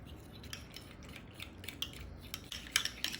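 A spoon or fork mixes a slurry for Instant Pot cheesy broccoli soup in a small dish, making quick, light metallic clinks and scrapes close by, with no voices.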